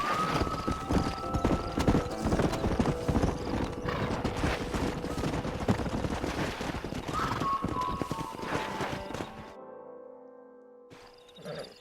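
Horse hooves clip-clop steadily alongside whinnies and neighs in the western video game Red Dead Redemption, close and fairly loud, then drop to a brief near-silence before faint tonal game sounds return.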